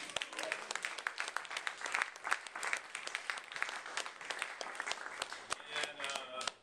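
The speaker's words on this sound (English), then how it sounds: "Have a round of applause for those guys." An audience at a tape release show at a music venue applauds for several seconds, a dense, steady crackle of many hands clapping at moderate distance.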